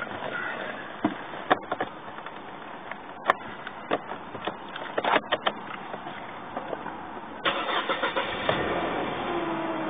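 Mercedes CLK 230 Kompressor with a fuel problem, its engine cranking and catching, then idling and revving in several sharp bursts, close and clear, with a rougher, louder run near the end.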